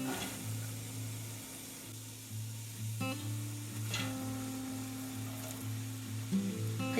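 Carrots and a large onion go into a hot pot for turkey stew, a low sizzle that swells as the vegetables drop in, with a few clunks along with a steady hum under the frying.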